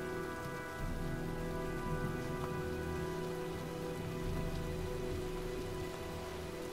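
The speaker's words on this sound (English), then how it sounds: "Well, looks like a storm's coming." A rainstorm in the video game Heavy Rain gives a steady, close patter and hiss of rain on surfaces under a low droning hum, continuous throughout with no voices.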